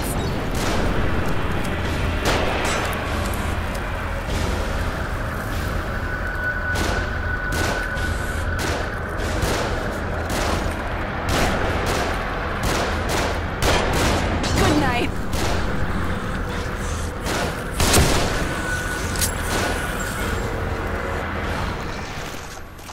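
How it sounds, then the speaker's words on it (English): Enemies shooting from above in The Evil Within: rapid, irregular gunshot cracks and bursts keep going throughout, loud and echoing over constant combat rumble. "They're shooting from above."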